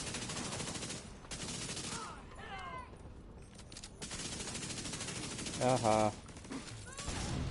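Rapid, sustained gunfire in The Division 2 fills the scene with dense bursts, near and loud, while a player's voice cuts in briefly.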